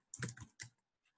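Several quick clicks sound as fingers tap on a computer keyboard, close and clear, in a short burst followed by near silence.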